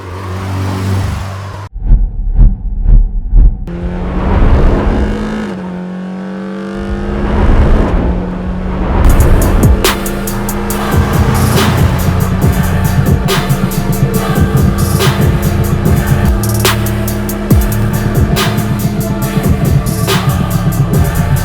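Layered engine sound for a car driving through the streets of Beirut: a loud, continuous engine drone with rising and falling revs and whirring, building after a brief muffled opening into a dense, sustained roar.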